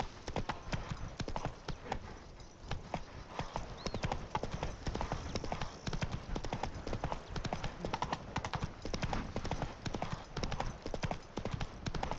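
Roach the horse gallops in the video game The Witcher 3, with rapid, rhythmic clip-clop hoofbeats running steadily and close throughout, plus a brief whinny and faint voices in the background.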